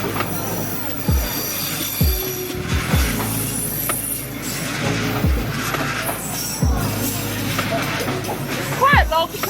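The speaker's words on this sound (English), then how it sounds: "It was quite a long train, wasn't it?" A long train rolls past very close in Hanoi, Vietnam, wheels clacking rhythmically over rail joints with squealing metal and a steady rumble, people talking over it.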